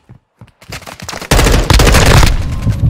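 Bursts of gunfire from a Call of Duty Modern Warfare 2 multiplayer match: a few sparse shots first, then a loud, dense fusillade of rapid automatic fire that keeps going to the end.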